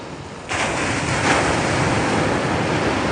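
Ocean waves washing onto a beach at sunrise, a continuous broadband roar of surf that swells after a brief quieter start, with some wind buffeting the microphone and no voices.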